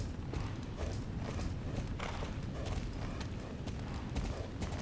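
Hooves of a galloping horse in the game Star Stable beat out a quick, steady clip-clop rhythm, fairly faint and continuous, with a faint mechanical creak underneath.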